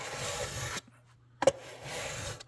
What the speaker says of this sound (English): I'm going to get on some heavier grit paper on this side of the sanding beam.